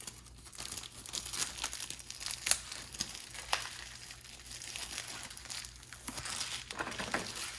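Plastic wrapping crinkles and rustles as a Corsair K95 RGB Platinum keyboard is unboxed, irregular close crackling bursts and sharp crinkles over several seconds, no talking.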